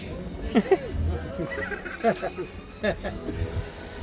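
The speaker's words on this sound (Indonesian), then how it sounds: "Kudanya deket ya" A horse at a zoo whinnies in a few short neighing bursts, close and moderately loud, with people chatting nearby in Indonesian.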